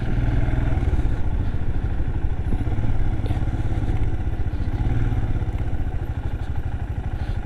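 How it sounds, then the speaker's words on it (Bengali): A Royal Enfield Bullet 350 motorcycle rides along a dusty riverbank road beside the Teesta, its engine thumping in a steady, loud, close rhythm throughout. "তিস্তা নদীর পাড় দিয়ে বাইক চালাচ্ছে।"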